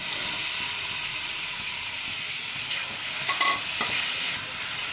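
Soaked soybean chunks in a hot frying pan with ginger-garlic paste, a steady loud sizzle and hiss with a few scraping stirs near the end.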